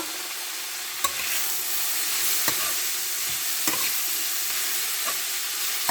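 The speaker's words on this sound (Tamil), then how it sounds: "நல்லா வதங்கணும். நல்லா கிண்டி விட்டுக்கலாம்." Shredded cabbage sautéed in hot oil for fish roti, with a steady sizzle throughout and a spoon scraping and stirring the pan in sharp periodic knocks about every second or so, close and clear with no talking.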